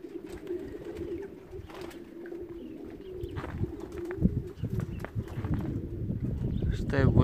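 Racing pigeons coo in a steady low murmur through the whole stretch, with faint scuffling and a few soft knocks rising toward the end; a voice may speak underneath.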